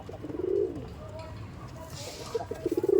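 Andhra Lambari pigeons coo in a loft, soft throaty coos close by, with a low murmur of other birds and faint background noise in between.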